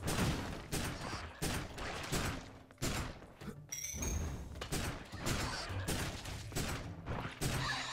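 Rapid bolt gun fire from the game Tom Sparks and the Quakes of Ruin, a dense run of loud repeated shots and thuds packed close together across the whole stretch, with no talk.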